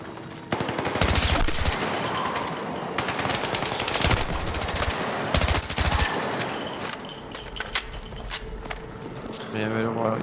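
Sustained automatic gunfire in the Battlefield 6 campaign, dense rapid bursts filling most of the span with loud impacts, while someone speaks over the shooting.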